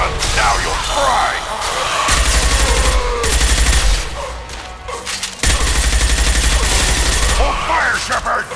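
Dense gunfire bursts rattle through a Mass Effect 2 Legendary Edition firefight, loud and continuous, with rapid repeated shots layered over battle noise while voices shout nearby.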